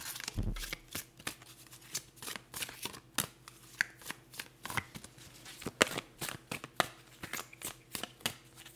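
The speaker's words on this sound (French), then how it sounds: "J'ai quand même envie de prendre une autre carte de l'oracle des messagers" Oracle cards for a reading are shuffled by hand in steady soft riffling slaps and swishes, close and intimate, repeating with a loose rhythm throughout and no talk.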